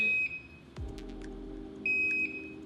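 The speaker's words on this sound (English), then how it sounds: "5 sweet beeps, and then the controller just immediately powers down after that." A DJI Smart Controller emits a thin, high electronic beep, goes quiet with a low hum and faint clicks, then beeps again just before powering down.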